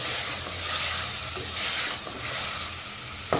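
Chicken masala frying over a high flame with garam masala stirred in, a steady close sizzle with soft stirring scrapes rising and falling, and no one speaking.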